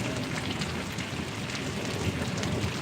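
Heavy rain pours steadily on a village in Paravadi, Gariyadhar taluka, a dense, even hiss of drops drumming on surfaces with no voices, holding at a constant loud level throughout.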